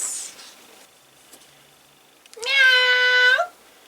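A cat gives one drawn-out, rising meow, loud and close, standing alone after a brief faint sound and otherwise quiet surroundings.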